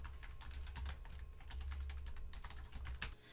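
Steady, close-up clatter of fingers typing an email on a computer keyboard, with rapid irregular key taps running throughout and no talking.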